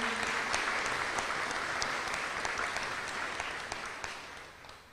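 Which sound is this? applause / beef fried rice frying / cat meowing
applause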